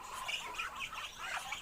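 Chinese ducks on a farm in Assam squawk together in a continuous, overlapping chorus of raspy calls, steady and fairly faint throughout.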